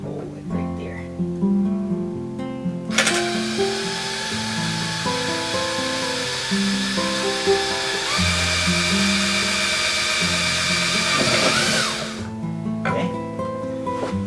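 A power drill bores into a miniature animatronic Billy Bob doll, a steady close whine running for about nine seconds before cutting off, with quieter tonal sounds before and after.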